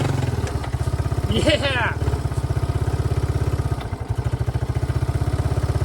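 A Yamaha YTM200 three-wheeler engine chugs steadily throughout on a trail, its rapid firing pulses loud and close, with a brief throttle rise and a voice shouting over it.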